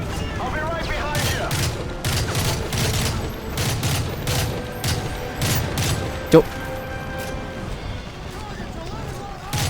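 Repeated bursts of gunfire and sharp shots crackle through a Call of Duty: Modern Warfare 3 campaign mission, with one loud bang standing out, while a player talks over the game audio.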